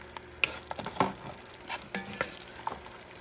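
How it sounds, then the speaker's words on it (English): A spoon stirs beef neck bone stew in a pot, giving irregular scraping and clinking strokes over a soft sizzle, close and alone with no talk. "Mix everything together."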